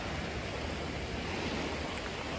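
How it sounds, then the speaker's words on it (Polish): Sea waves at Sopot on the Baltic coast make a soft, continuous wash of surf, a faint and even roar with no distinct breaks. "ale słychać morze"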